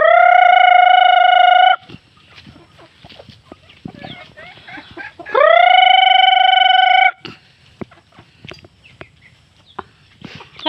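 Chickens on a home farm crow in two long, loud, sustained calls, with scattered clucking and rustling filling the gaps between them.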